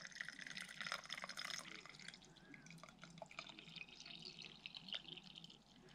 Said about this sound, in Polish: Tak mniej więcej połowę słoika nalewamy wody.